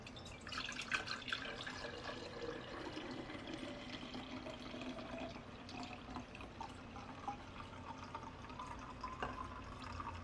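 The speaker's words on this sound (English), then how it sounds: "And then I'm just going to pour it right here in this jar" Herbal decoction is poured into a jar as a faint, continuous liquid trickle and splash, steady for about ten seconds with no talking.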